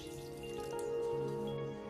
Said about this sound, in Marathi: आता हे पाणी टाकतो